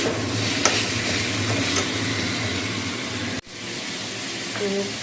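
Marinated chicken sautés in a hot pan with a steady, close sizzle, stirred now and then with a scraping spoon; the sizzle briefly drops partway through, then resumes.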